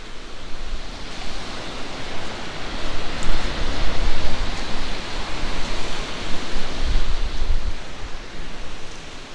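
Steady, loud wash of surf from waves on the beach at Gorleston, Norfolk, a continuous broadband roar that swells slightly midway, with no speech.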